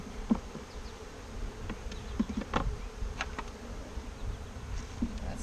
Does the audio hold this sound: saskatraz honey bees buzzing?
yes